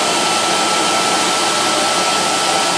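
A vintage Electrolux XII vacuum cleaner runs steadily up close, a loud, constant broadband whoosh and whine of motor and suction that holds without a break from start to finish.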